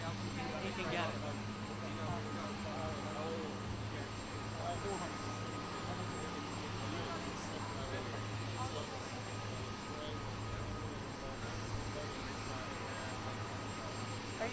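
Helicopter at an outdoor event during a presidential visit in the UK, a steady droning rotor and engine rumble running the whole time under a busy crowd and voices, loud and close.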